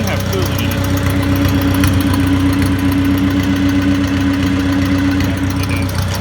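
An old Farmall Cub tractor engine running on year-old gas idles steadily with an even, knocking putter, loud and close throughout, with voices talking over it.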